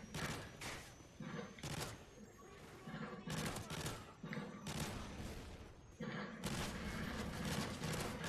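Burst-fire rifle shots in a Modern Warfare 3 match on the Interchange map, loud close bursts of rapid cracks in repeated clusters separated by short gaps, with game sounds and faint talk underneath.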